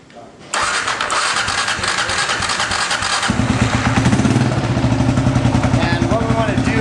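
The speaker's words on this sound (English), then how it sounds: "we're going to go ahead and fire up the bike" Kawasaki KLR650 motorcycle cranks briefly then fires up, its single-cylinder engine settling into a loud, steady idle close by, with a voice speaking over the running engine.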